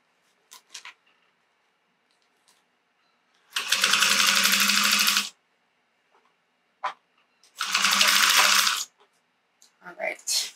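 A sewing machine topstitching fabric runs in two steady bursts of about a second and a half each, loud and close, with quiet pauses and small handling clicks around them.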